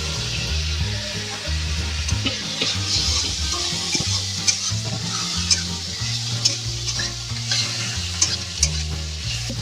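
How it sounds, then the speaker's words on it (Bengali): Ginger garlic paste sizzles in a pan while being stirred for street-style chilli potato, with steady frying crackle and repeated scraping strokes of the spatula over a low background hum. "হালকা হালকা ভাজা ভাজা হয়ে যাচ্ছে, দিয়ে দেবো একটুখানি পুরো আদা রসুনের পেস্ট।"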